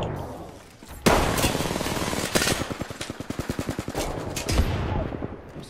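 Rapid automatic gunfire in the Apex Legends video game, a long loud burst of evenly spaced shots after a sharp opening blast, with a few heavier single reports mixed in.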